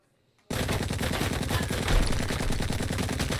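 Gunfire in the video game Blue Estate: after a brief quiet moment, a loud, unbroken burst of rapid automatic shots rattles on continuously to the end.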